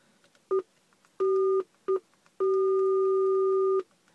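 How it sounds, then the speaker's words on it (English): An Iridium 9555 satellite phone gives four electronic dial tones in quick succession, two short beeps then a brief one and a long sustained tone, clear and close with no talking. "That's me dialing quickly."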